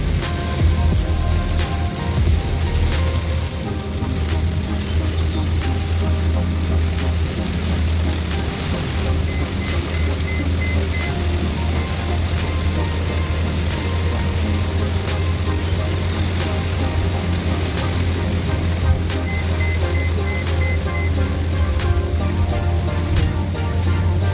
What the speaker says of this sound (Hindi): बारिश बहुत तेज़ हो गई है